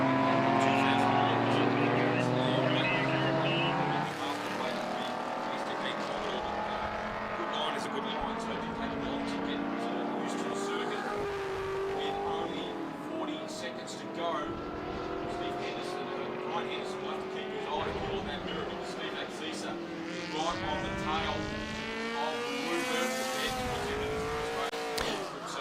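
Group C sports-prototype race cars at a historic racing meeting, several engines droning and shifting pitch as they lap the circuit, steady and fairly loud beneath ongoing commentary voices.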